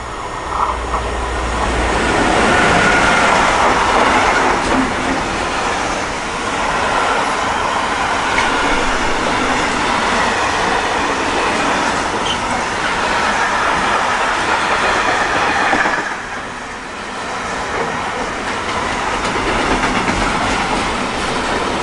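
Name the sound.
freight train passing on the opposite track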